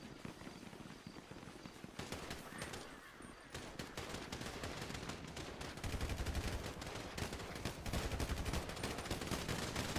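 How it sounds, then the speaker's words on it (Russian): Gunfire in the online role-play game GTA 5 RP during a Vietnam War themed event: rapid bursts of shots and automatic fire crackle continuously over a busy background of game noise, with no speech. "О, стрельба. Начинается, ребята."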